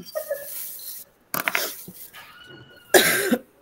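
Allergy cough from a person, several harsh bursts of coughing and throat sounds separated by quiet gaps, close and fairly loud.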